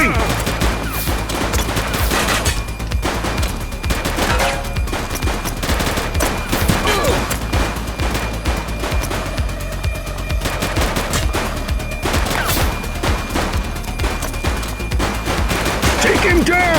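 Rapid bursts of automatic gunfire during a police shootout in the video game The Precinct, loud and sustained with dense overlapping shots over background music, with shouted voices at times.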